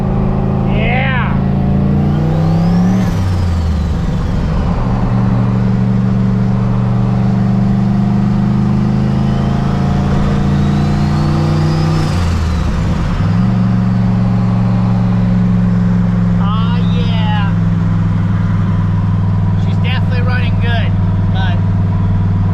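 An AMX car engine idles loudly and steadily with a deep rumble, rising into two revs that sweep up and fall back, while someone talks over it.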